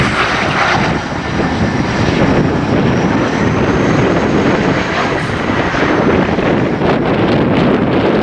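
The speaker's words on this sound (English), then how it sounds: "This one is a CRJ900LR from CityJet" A CityJet CRJ900LR regional jet landing at night in cold December weather, its engine roar loud and continuous throughout, mixed with wind buffeting the microphone.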